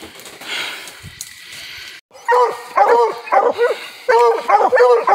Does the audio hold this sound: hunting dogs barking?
yes